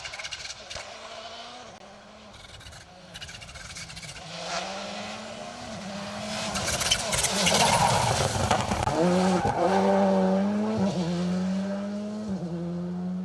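A VW Polo rally car on an asphalt rally stage at Rally Ceredigion approaches and roars past, engine rising and falling through gear changes, loud and close, with a commentator's voice faintly underneath.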